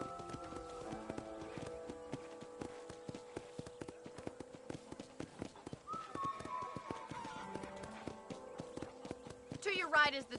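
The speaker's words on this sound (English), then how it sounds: "I picked out a fine horse for you" Horse hooves clip-clop at a steady walking rhythm on a video game ranch, close and clear, running continuously under a voice and layered background music.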